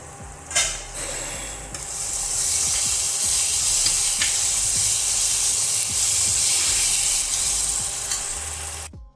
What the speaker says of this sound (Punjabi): ਹਲੀ ਸਾਡਾ ਤੜਕਾ ਭੁੱਜਿਆ ਨਹੀਂ ਹੈਗਾ